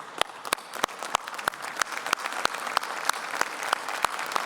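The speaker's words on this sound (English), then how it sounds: "if you would please rise and give him a round of applause for his service to our country" An audience at a police quarterly award ceremony claps for an honoree, dense applause with sharp individual claps standing out near the microphone in a steady, even stream.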